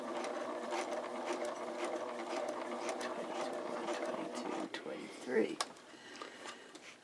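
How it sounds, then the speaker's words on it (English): A sewing machine runs steadily, its needle stitching in a fast, even rhythm, with a few clicks and a short slowdown near the end. "begin to pull the fabric under the machine needle"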